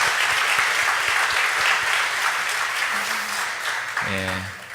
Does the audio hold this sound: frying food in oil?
no